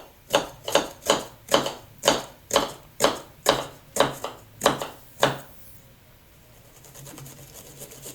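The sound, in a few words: knife chopping onion into small pieces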